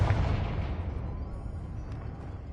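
A Confringo spell in a Hogwarts video game lands as a heavy, booming blast at the start. It fades into a long, low rumbling tail with no talk.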